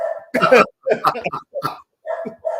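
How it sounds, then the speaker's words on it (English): An overexcited pet dog barking in short, loud bursts of several sharp barks with brief gaps between them, close to the microphone indoors. "My dog is losing her mind."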